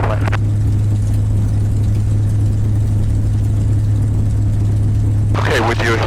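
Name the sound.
North American P-51 Mustang aircraft engine running during taxi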